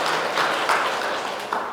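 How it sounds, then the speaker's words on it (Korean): A church congregation bursts into applause, dense continuous clapping filling the room at full volume through the short stretch with no voices standing out. "우리 하나님 앞에 영광의 박수 올려드릴까요?"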